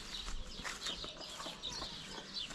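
Chickens and young chicks in a rural village yard, scattered clucks and high peeping calls overlapping at close range, a steady busy chorus with no talk.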